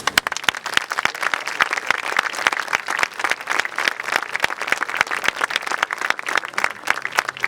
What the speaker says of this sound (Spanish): Con este aplauso agradecemos el pronunciamiento